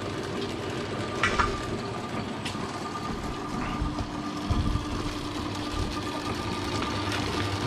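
A metal lathe running in third gear while machining a trailer steering lock, giving a steady mechanical whir with a faint rhythmic knock and occasional light clicks, close and continuous with no talking.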